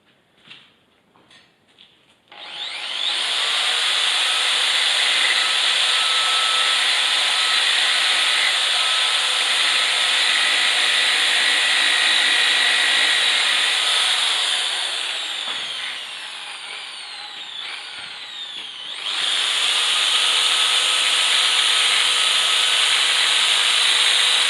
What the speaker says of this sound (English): So at this point I just like to buff the edges just to highlight them